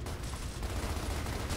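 Gunfire in Gears of War: a rapid, rattling burst of shots heard close and dense across a short moment, steady in loudness, with no talking over it.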